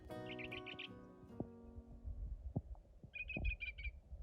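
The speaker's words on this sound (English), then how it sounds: "Wonder what type of bird that is." Small bird singing along a Joshua Tree National Park trail: two short bursts of quick, high, repeated chirps a few seconds apart, fairly close, with light footsteps and thumps in between.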